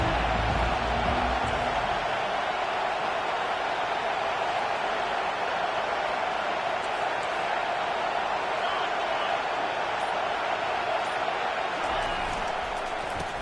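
A large stadium crowd at a Texas college football game against Kentucky roars in a steady, dense wash of noise that never lets up.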